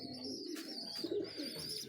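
High-flyer pigeons coo softly and closely in a brief, quiet burst of low, rolling calls.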